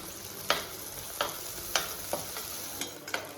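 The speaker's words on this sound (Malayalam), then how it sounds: "പാവയ്ക്ക വറുത്തെടുത്ത അതേ ഓയിലിൽ തന്നെ മൂന്ന് പച്ചമുളക് വട്ടത്തിൽ അരിഞ്ഞതായിരുന്നു അതും കൂടി ഒന്ന് വറുത്തെടുക്കാം" Sliced green chillies frying in oil already used for bitter gourd, with a faint steady sizzle broken by several sharp stirring scrapes spaced through the short stretch.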